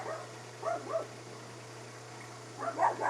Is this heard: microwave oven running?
no